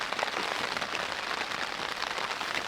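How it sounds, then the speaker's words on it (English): Steady rain patters on a tent with a close, dense, even hiss of drops that holds for the whole stretch. No voices are heard. "I don't know if you can hear the rain."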